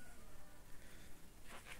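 Stingless bees buzz faintly around the hive boxes of a meliponary, a soft continuous hum with a couple of slightly louder passes near the end, no voices.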